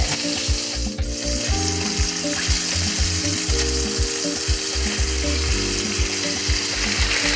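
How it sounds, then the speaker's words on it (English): Sirloin steaks sizzle and crackle steadily in a hot pan, a close, continuous frying hiss with small pops throughout. "Frying 2 minutes on each side to keep it nice and rare."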